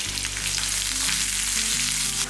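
Crushed garlic cloves dropped into hot oil with curry leaves give a loud, close, dense sizzle that holds steady throughout, with no voices.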